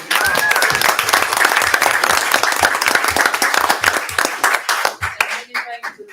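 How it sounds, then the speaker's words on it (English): A crowd applauds with dense, lively clapping at a town board of commissioners meeting, gradually thinning out into scattered claps, with voices faintly mixed in. "Big round of applause for Honey and Hive."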